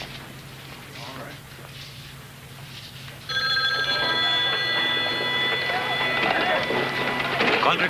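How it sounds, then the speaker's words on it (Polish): A telephone rings in a sports club office from a 1979 Billy Graham film, a steady bright ring that starts partway through and continues loud to the end, with faint talk in the background. "Dick, telefon do ciebie."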